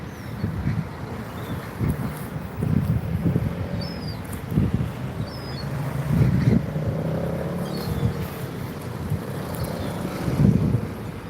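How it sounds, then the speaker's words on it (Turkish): Wind buffets the microphone in low, uneven gusts that swell and fade at a marina in Sinop, Turkey, with faint high bird-like chirps distant in the background. "Evet evet biraz rüzgar var."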